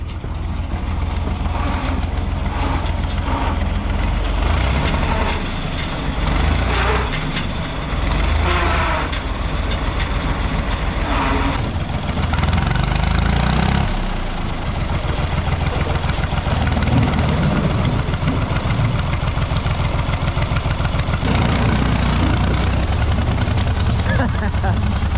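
A 1950s-style Chevy 350 small block V8 runs loudly and roughly at close range, a dense steady rumble with uneven pops and surges throughout, with voices heard intermittently.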